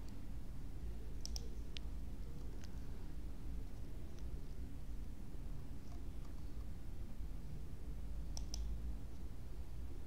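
A handful of sharp, faint computer mouse clicks in software, scattered with long gaps between them, sit over a low, steady background hum.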